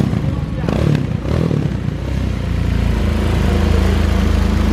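A nearby Honda CB 300R motorcycle engine revs and drones loudly throughout, with a clattering mechanical edge and a voice talking over it.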